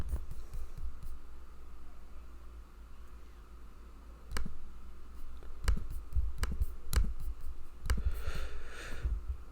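Scattered clicks of typing on a computer keyboard, with sparse keystrokes arriving in small bursts over a low steady hum.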